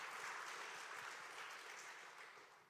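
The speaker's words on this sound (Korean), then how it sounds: "박수 한번 올립시다" A church congregation applauds during a sermon, a steady wash of many hands clapping together at moderate distance, with no voices over it.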